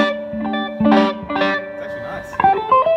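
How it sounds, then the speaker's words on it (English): Electric guitar played through a Holmes Mississippi Bluesmaster amp with a spacey reverb, a few sustained notes and chords blooming into a washy tail, close and fairly loud. "Test out this reverb. Yeah, I'm curious what the reverb sounds like."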